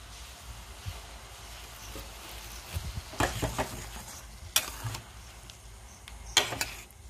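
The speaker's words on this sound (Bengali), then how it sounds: "মাঝে মাঝে একটু নাড়িয়ে নিতে হবে। এটা আমি এই রসটা মরে আসা পর্যন্ত এটা নাড়বো।" Paneer pieces stirred through thickening sugar syrup in a pan, with a low simmering hiss underneath and a few sharp clinks and scrapes of the spoon against the pan, close and moderately loud.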